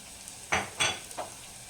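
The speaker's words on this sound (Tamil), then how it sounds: "பூண்டை வந்து எண்ணெயில் சேர்த்துக்கலாம்." Garlic dropped into hot sesame oil for a village-style greens gravy, three quick sizzling hisses with a light stir, close and brief against a quiet kitchen.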